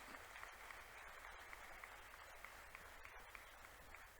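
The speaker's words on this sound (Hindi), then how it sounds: "तो हम लोग जोरदार तालियां बजाते हैं मुखियाराम जी के लिए।" Steady crowd applause at a seminar, with dense clapping throughout, moderately loud and sustained, no voices standing out.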